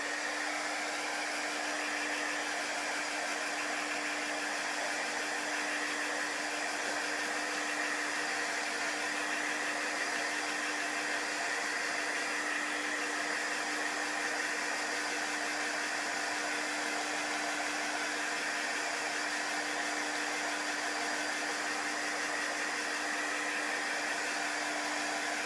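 A hair dryer blows steadily on chalk paste spread over a craft project, a continuous loud whooshing hum with a faint tonal whine, unbroken and alone throughout.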